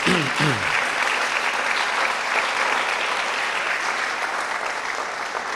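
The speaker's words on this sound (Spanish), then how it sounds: "Dale un aplauso al Señor, hermano," Congregation applause during a Sunday church service, a dense, steady wash of many hands clapping that stays loud throughout, with a brief voice heard at the start.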